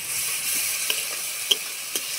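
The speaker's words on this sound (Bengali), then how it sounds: "মশলাটা যাতে না পুড়ে যায় তার জন্য খুব অল্প পরিমাণে একটু জল দিয়ে দিলাম।" Ground spices and tomato frying in a pan for a rohu fish curry as a little water goes in, a steady close sizzle broken by a few sharp stirring scrapes and spits.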